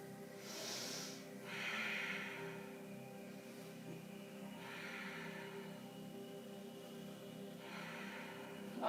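Soft breathing during a flow yoga session, with slow, audible inhales and exhales that come in a few separate, gentle breaths spread across the quiet stretch.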